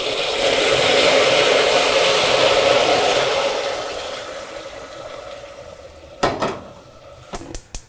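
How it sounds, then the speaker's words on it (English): Dry white wine poured into hot caramel in a pan for a Julia Child dessert, a loud hissing, bubbling sizzle that gradually fades, ending with a few sharp clinks of utensils against the pan. "she says to stand back because it's gonna freaking bubble and sizzle."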